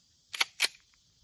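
Two sharp cracks from a Ruger 57 pistol fired at a steel target outdoors, loud and close, spaced about a quarter second apart with quick decay.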